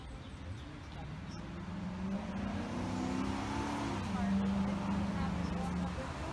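Road traffic moves near an active police scene in Perry Hall, Baltimore County, where closures have backed up cars. A steady engine hum rises and sweeps past at moderate distance, with a vehicle tone climbing and then levelling off over continuous background noise.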